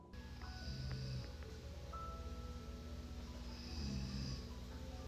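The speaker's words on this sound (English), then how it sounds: "I also have a snoring puppy beside me." A puppy snores steadily nearby, a soft continuous rasping breath over a low indoor hum, with two slightly louder snorting swells.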